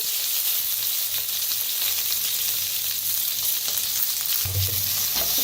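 Mustard seeds, curry leaves and ground spice paste fry in a little oil for vada pav filling, a dense, loud, steady sizzle with a brief low thump near the end.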